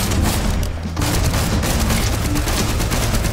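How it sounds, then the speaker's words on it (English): A minigun fires in Fortnite, a dense, continuous roar of rapid shots that sustains loudly throughout, with a brief dip near the start before resuming at full intensity. "They must have really nerfed this minigun."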